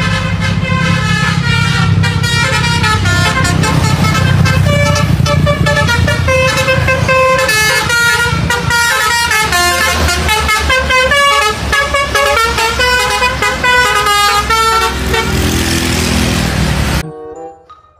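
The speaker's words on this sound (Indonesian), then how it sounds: "kali ini ada bus PO Haryanto teman-teman" A PO Haryanto bus passing close by with its multi-tone musical horn blaring loudly and continuously in a melodic sequence over the engine, cutting off abruptly near the end.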